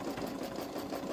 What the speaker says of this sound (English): this is going to finish its second round of stitching